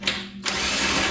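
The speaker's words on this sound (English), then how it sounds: "I just have this on an old drill." An old power drill with a 13 mm socket runs briefly on skid plate bolts of a lifted 2006 Subaru Forester, a short whirring burst that drops out, then resumes as a steady close motor drone.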